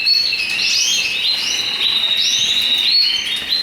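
Several male canaries chirp and trill continuously at a breeding aviary, the bright, high song close and loud with overlapping phrases and no voices.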